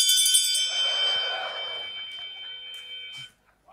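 A bell rings out with a bright sustained metallic tone, strongest at the start and slowly decaying over a few seconds before cutting off into near silence.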